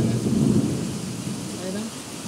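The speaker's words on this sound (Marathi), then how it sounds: "छान पाऊस पडतोय." Steady rain falls outdoors amid lush greenery while a deep rumble of thunder rolls loudly at the start and fades under the continuous downpour.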